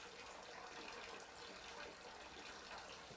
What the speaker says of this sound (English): 103, 104 degree water coming out of the faucet and climbing